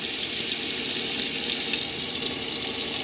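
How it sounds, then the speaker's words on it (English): Pressurised hot water gushes steadily from the tap of a Swift Sea Searcher 674 caravan sink, a continuous hiss of running water close to the microphone with no talk over it. "you'll get pressurised water like so"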